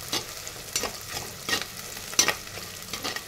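Onions and three green chillies frying in a clay pot, with soft hiss and several scraping stirs of a spoon at irregular intervals, close and fairly quiet.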